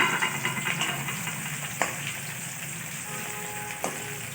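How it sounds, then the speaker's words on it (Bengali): Chopped onions fry with cardamom, cinnamon and nutmeg for a biryani, giving a steady close sizzle with a couple of sharp clinks from a stirring utensil against the pan. "জায়ফল দিয়ে পেঁয়াজ কুচি রেখেছি, এটা ভেজে নেব"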